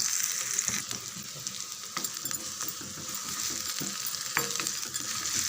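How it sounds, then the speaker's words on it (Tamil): Finely chopped onion and curry leaves sautéing in a pan with mustard seeds and urad dal, a steady hiss of frying with occasional light scrapes and clinks of a stirring spoon. "பாதி அளவுக்கு வெங்காயம் வதங்கினா போதும்"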